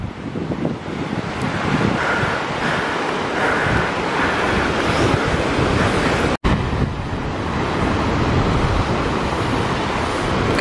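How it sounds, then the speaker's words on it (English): Sea waves wash onto the shore in a continuous roar of surf, with heavy wind buffeting the microphone throughout. "Guys, I just love the sound of the sea."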